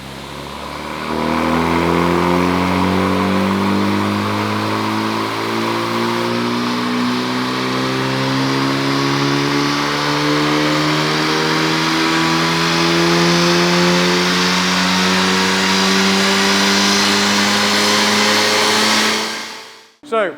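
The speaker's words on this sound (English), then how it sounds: "So the car's now strapped to the dyno." Honda Civic FL5 strapped to a dyno with its stock airbox, engine pulling through one long wide-open run from low revs to high, loud and close, with steadily rising harmonics before cutting off abruptly near the end.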